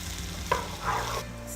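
Frozen spinach goes into a pan of softened onions, giving a short clatter and stir followed by a low, steady frying sizzle, close and moderately quiet.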